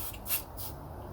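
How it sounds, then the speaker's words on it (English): Leak detection spray hisses onto a gas nut on a boiler, giving two or three short, soft spray bursts close by with no talking. "We're just going to put some leak detection spray on the nut"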